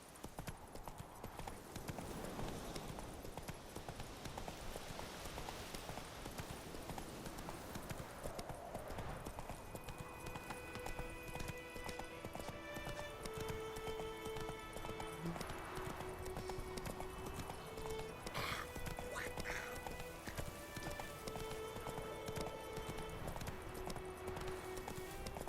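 Roach the horse gallops in The Witcher 3: Wild Hunt with a steady, rapid clip-clop of hooves throughout, backed by dense game ambience and music-like tones.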